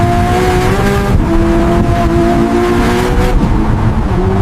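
A $3M hypercar accelerates at night on an empty road, its engine a loud, sustained roar with steady harmonic tones climbing and shifting, close and continuous with no talking.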